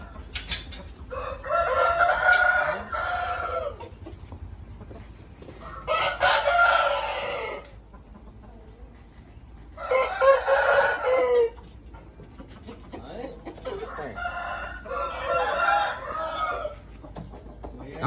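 Chickens and a rooster in a winter coop, heard in four loud bursts of crowing and clucking separated by short quiet gaps, close by.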